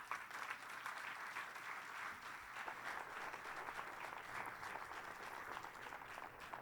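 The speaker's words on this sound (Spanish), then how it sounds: "Le da un aplauso al Señor." A church congregation claps for the Lord during a Spanish-language service, sustained, even applause from a gathered crowd continuing throughout.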